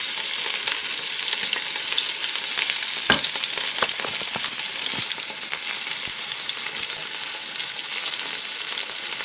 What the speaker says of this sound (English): I've just put the roast beef in and we'll turn it over in a few minutes